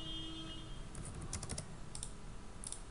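Keystrokes on a computer keyboard while drafting in AutoCAD: a few quiet, separate key taps clustered together, then two more spaced presses, faint over a steady background hiss.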